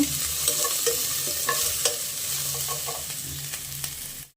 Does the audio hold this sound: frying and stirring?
yes